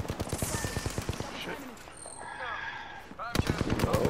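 Rapid automatic gunfire in Apex Legends, dense rattling bursts near the start and again at the end, separated by a brief lull with softer game effects and distant shots.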